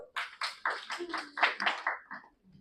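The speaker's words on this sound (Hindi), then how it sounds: "इनके लिए जोरदार ताली बजाएंगे, है ना?" An audience at a talk claps in a short burst, around ten distinct nearby hand claps in quick uneven succession that thin out and fade toward the end.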